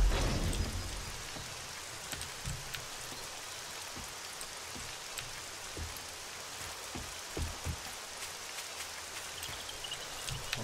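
Steady rain in the 7 Days to Die video game, an even hiss of drops on surfaces with occasional low thuds, quiet and continuous, no voices.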